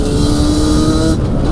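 A Yamaha Banshee ATV engine revs hard in first gear, a loud continuous two-stroke whine with steady harmonic drone that holds, then eases slightly near the end.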